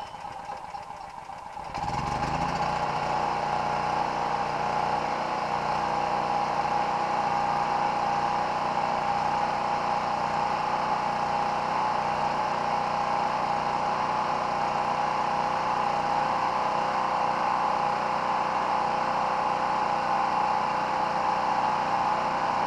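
Small gasoline engine starts after a brief low rumble and then runs at a steady, even idle, close and continuous for about twenty seconds.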